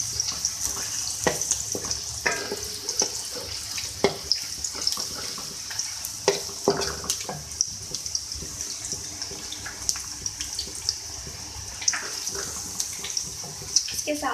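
Onions added to potatoes and flat beans cooking in a pan, frying with a steady hissing sizzle punctuated by scattered spatter pops and light stirring scrapes throughout.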